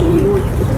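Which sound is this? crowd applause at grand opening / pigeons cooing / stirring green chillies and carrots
pigeons cooing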